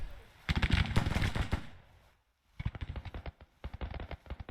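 Army guns fire in the Grand Tactician strategy game in two dense bursts of rapid crackling volleys, separated by a brief silent pause, moderately loud and close.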